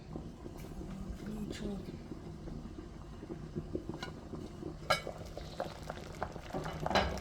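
Ingredients for a Jamaican spicy chicken soup go into a bubbling pot, making a soft background simmer broken by a few scattered splashes and knocks near the end.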